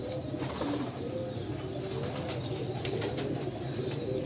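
Salara teddy pigeons cooing: soft, repeated low coos over a quiet background, close by and unhurried.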